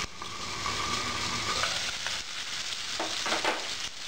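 Tandoori chicken fries on a high flame in a pan, giving a dense, continuous crackling sizzle, close and fairly loud, with occasional stirring scrapes.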